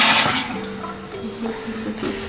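Water runs and splashes from a tap while a young child's face is washed at a sink, a steady close wash of flow with an adult voice speaking over it.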